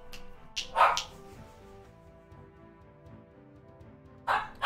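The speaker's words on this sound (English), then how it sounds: "This dog is driving me insane" A dog barks several times nearby in a short burst, falls quiet under a low steady room hum, then barks twice more at the end.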